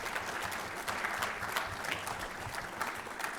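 An audience applauding at a college sport management speaker event, a dense and even round of clapping with scattered sharper claps standing out.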